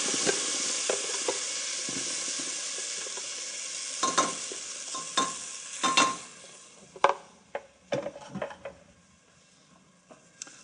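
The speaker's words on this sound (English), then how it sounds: "scrape the bottom of the pan and make sure that it doesn't catch and burn" Mexican chile puree fries in fat in a hot pan, a loud steady sizzle at first. It then gives way to a run of sharp scraping and stirring strokes against the pan bottom, close and without talk.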